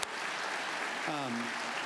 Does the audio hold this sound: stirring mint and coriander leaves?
no